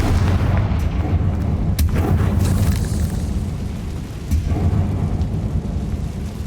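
A Confringo spell explodes in Hogwarts Legacy as a dense, continuous rumbling blast with sharper cracks breaking through it twice, loud and sustained throughout.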